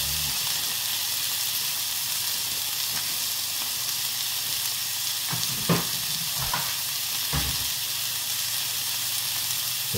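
Steak seasoned with black pepper sizzles steadily in a hot pan for medium-well cooking, a loud, constant frying hiss with a few soft scrapes or stirs partway through.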